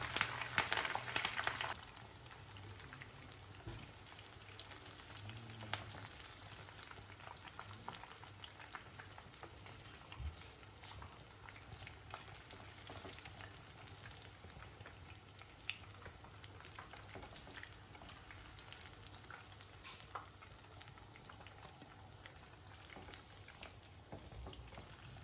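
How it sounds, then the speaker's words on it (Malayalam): Chicken 65 pieces deep-frying over a high flame with curry leaves, a steady low crackle and fine sizzle running quietly for the whole stretch, slightly louder at the very start, with no voices. "ഇതുപോലെ മുഴുവൻ പീസും ഫ്രൈ ചെയ്തെടുക്കുക."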